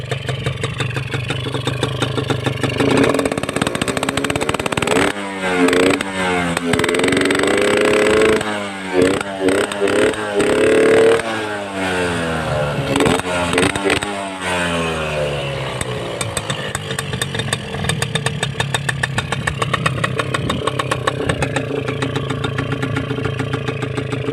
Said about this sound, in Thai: เป็นไงครับฟังเสียงเครื่องยนต์แล้ว ใช้ได้นะครับ